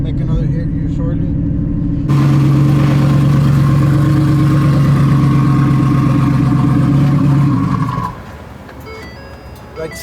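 A drag racing truck engine at the strip roars loud and close, holding a high droning rev for several seconds before the pitch falls and fades away, with people talking in the background.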